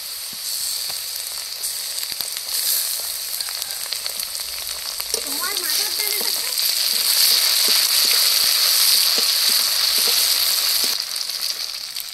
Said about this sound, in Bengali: পেঁয়াজগুলো লাল লাল করে ভেজে নিয়েছি, এবার কাঁকড়ার ঘিলু দিয়ে দেবো